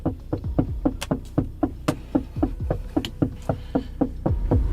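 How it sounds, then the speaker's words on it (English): A police officer knocks on a parked car's window, a steady series of about twenty sharp, close raps in quick rhythm with no talking. "The officer continued knocking on his window for over 3 minutes"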